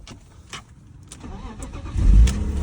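An old car's engine cranks with faint clicks before it catches with a louder low rumble near the end, heard close with no talking.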